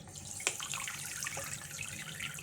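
Water pours into a container for quick pickled cucumbers, a steady close splashing trickle with a few small clinks.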